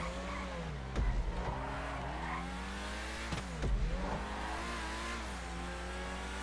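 A Pegassi Torero, modelled on the Lamborghini Countach, accelerates in GTA 5 with a rising engine whine that climbs through gear shifts, two sharp bursts near the start and middle, loud and up close with no talk.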